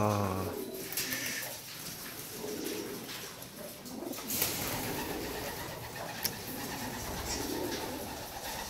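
Pigeons cooing in a loft, soft repeated coos layered over a busy, continuous background of bird calls and shuffling, with a few brief sharper sounds.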